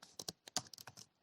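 Quick keystrokes on a computer keyboard, about a dozen soft clicks in an uneven burst, close and quiet with no talking.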